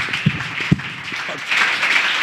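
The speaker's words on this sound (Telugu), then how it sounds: "చప్పట్లు కొడుతూ దేవుని గట్టిగా కొట్టాలి." Church congregation clapping during a fasting prayer service, with two sharp claps standing out early, then a louder, denser stretch of applause-like sound toward the end.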